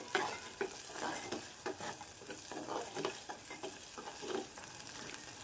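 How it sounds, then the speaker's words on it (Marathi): Ginger-garlic paste frying with masala in a pan, a soft continuous sizzle broken by repeated scraping strokes of a spoon stirring, fairly quiet, no voices. "आलं लसणाची पेस्ट तेही फ्राय करून घेणार"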